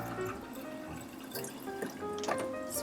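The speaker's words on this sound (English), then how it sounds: "you are going to pour out that water." Soaking water poured out of a mason jar of sprouting beans, a close, steady trickle and splash with a few drips, lasting a few seconds.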